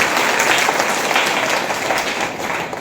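A loud, dense burst of audience applause at a live comedy show, sustained and even throughout with no voices standing out.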